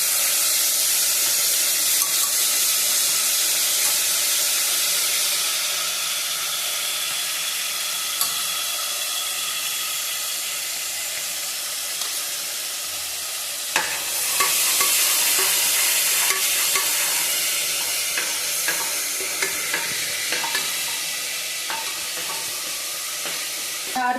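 Spice paste fries and splatters in hot oil with cinnamon and cloves, a loud, dense sizzle with crackling pops that eases off midway, then flares again as stirring scrapes through the pan.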